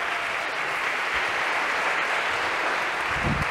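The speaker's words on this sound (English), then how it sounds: "round of applause for our one brave volunteer here" Audience applause in a university computer science lecture hall for a volunteer coming on stage: a steady, dense wash of clapping from a large crowd that holds at an even level throughout.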